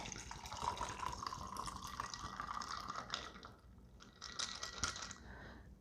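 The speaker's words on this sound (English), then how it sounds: "we're gonna pour it into the glass" A shaken bourbon cocktail is poured from a shaker into a glass, a rattling trickle of liquid with ice clinking that briefly pauses and then resumes, with no voices.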